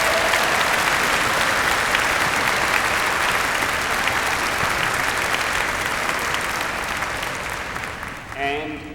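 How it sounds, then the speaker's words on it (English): A university convocation crowd gives faculty and staff sustained, loud applause that holds steady for several seconds before tapering off, with voices beginning to speak at the end. "let's give the faculty and staff a warm round of applause"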